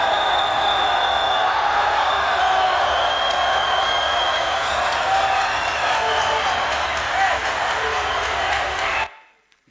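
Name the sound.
AI-generated excited crowd cheering at a cricket game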